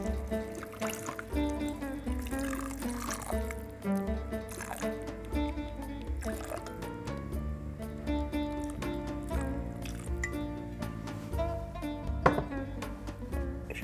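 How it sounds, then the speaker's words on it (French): Water and tomato sauce poured into a pot of cooking chicken for harira, heard as soft trickling and liquid gurgles under a busy, tonal background that continues steadily throughout. "je vais rajouter maintenant de l'eau et de la sauce tomate"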